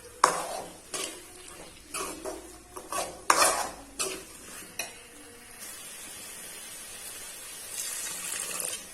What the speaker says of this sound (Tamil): இதை போட்டு இதையும் கொஞ்ச நேரம் நல்லா வதக்கி விட்டுறலாம்.